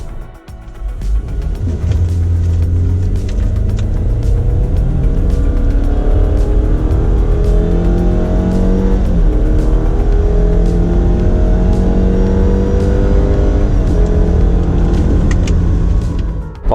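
Subaru Forester SK GT Edition accelerating hard, engine droning and climbing through rising revs with gear-shift steps over a continuous loud rumble of road and cabin noise, sustained for over fifteen seconds with no talk.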